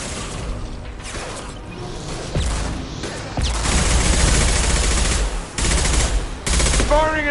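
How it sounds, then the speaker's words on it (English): Rapid gunfire and heavy impact blasts from Mass Effect 2 combat, loud and dense, with bursts stacking into continuous firing and sharp booms, a short lull before another loud volley near the end. "Firing an impact shot."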